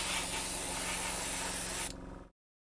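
Airbrush driven by a tankless compressor, a loud continuous close hiss of spraying air lasting about two seconds before cutting off abruptly into silence, with no talk.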